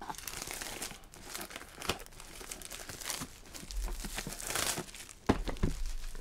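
Plastic wrap and cardboard packaging of a Pokémon Elite Trainer Box (Chilling Reign set) being opened up close, with steady crinkling and crumpling, bursts of tearing, and a few sharp crunches and thumps near the end.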